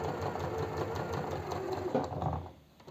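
A sewing machine runs a steady, close mechanical whir while stitching the edge of a narrow 3 mm folded hem on a women's plus-size summer dress, continuous for most of the clip before it eases off near the end.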